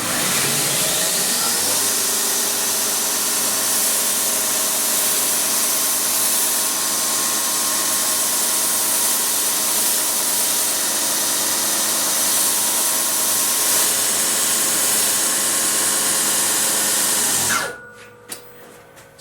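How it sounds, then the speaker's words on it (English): A bench grinder sharpens the edge of a budget axe with a 60-grit abrasive, giving a steady, loud, continuous grinding whine for about seventeen seconds before it cuts off abruptly into near silence. "we've ground that now with the 60 grit"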